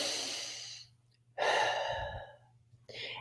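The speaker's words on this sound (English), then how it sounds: "Now take a deep breath." A slow, deep breath drawn in and let out, soft and close, with two drawn-out breathy swells separated by a short pause and a third beginning at the end, in a calm setting with no talk.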